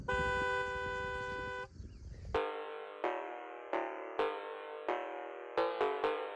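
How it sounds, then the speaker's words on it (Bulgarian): A car horn blasts a long steady honk outdoors, then sounds a string of short, loud, evenly spaced toots, close and clear with no talking. "Така че е време да се справим срещу клаксона."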